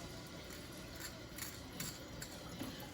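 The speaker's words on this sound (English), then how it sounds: "I'm just gonna take my steak knife and just cut through the membrane on the meat part of the back of the rib." A steak knife slices through the membrane on the back of a rack of baby back ribs, a faint scraping cut under steady background noise.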